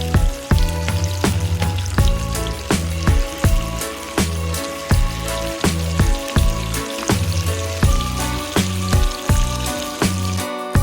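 Slices of egg coated in masala frying on a tawa, crackling and sizzling loudly and close by, with repeated sharp pops and bursts as oil spatters over about eleven seconds.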